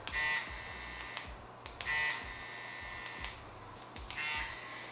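A Mummy Anubis tattoo machine runs at about 6.5 volts with a steady high electric buzz that jump-starts several times, cutting off briefly and revving back up, close and alone.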